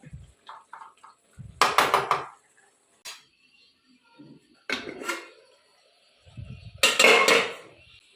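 A metal lid clanks onto a cooking pot with a few sharp rattling knocks, close and loud, separated by brief quiet gaps.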